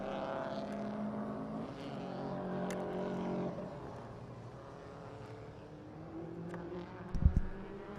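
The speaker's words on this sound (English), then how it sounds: "These cars do sound great coming down the front straight, too." A race car on a time attack lap at the Roval hums and revs along the front straight, shifting pitch as it passes, fairly distant and moderate, with a brief sharp thump near the end.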